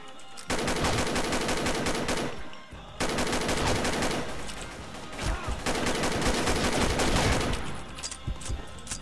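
Automatic machine gun in a recoil-control shooter game, fired in long sustained bursts with a rapid even cadence, loud and close, with a brief pause between the first and second bursts.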